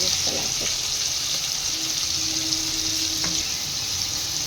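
Garlic paste frying in a pan with melted tomato for a mutton curry with potatoes, giving a steady close hiss and sizzle throughout, with a few faint knocks of a utensil.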